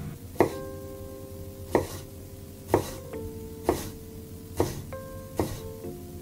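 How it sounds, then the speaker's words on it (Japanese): Peeled garlic clove crushed and sliced with a knife on a cutting board: six sharp, evenly spaced knocks with ringing tails, close and distinct against a quiet background. "ニンニクは一かけ皮を剥いて潰します。"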